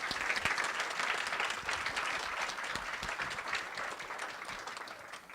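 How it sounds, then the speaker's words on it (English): Audience applause at a colorectal cancer advocacy congress day, a dense, sustained wash of many hands clapping that holds steady for several seconds and slowly thins toward the end. "So let's give them a round of applause"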